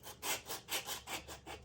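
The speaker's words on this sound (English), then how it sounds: "I have this sandpaper. This is a coarse one." Coarse sandpaper scrubbed firmly over a shoe sole to clear debris before regluing, about eight rhythmic back-and-forth rasping strokes, close and moderately loud, with no voices.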